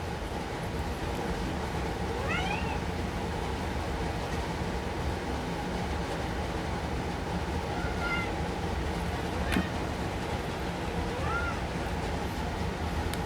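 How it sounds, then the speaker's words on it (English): A cat meows faintly a few times in the distance, brief rising calls spaced apart over a steady background hum. "I don't know if you can hear my cat meowing."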